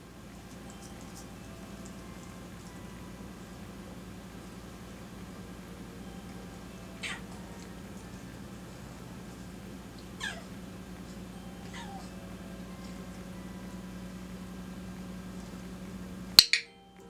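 A cat named Wolfie meows faintly three times, short rising calls spaced a few seconds apart in a quiet room during clicker training, with a sharp click right at the end.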